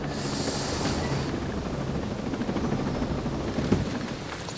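Helicopter in the video game Ghost Recon Breakpoint, a steady rotor drone running loud and unbroken under a busy mix of game effects and gunfire-like bursts.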